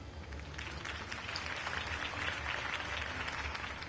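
Crowd applause at a political campaign rally in the Batman Telltale video game rolls as a steady, dense wash of clapping throughout, fairly distant and even in level.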